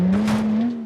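Nissan GTR driving in BeamNG.drive, a brief steady engine hum with faint tire noise, close and continuous for under a second, fading slightly at the end.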